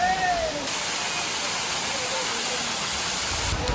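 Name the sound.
Thirparappu waterfall, water falling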